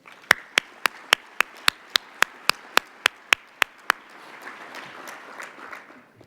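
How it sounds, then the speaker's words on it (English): A string of sharp, evenly spaced claps rings out, about fifteen in a steady rhythm, then gives way to a softer, diffuse wash of audience applause at a speech by the Long Beach mayor, honoring the city's economic development team. "let's give our economic development team in Long Beach a round of applause"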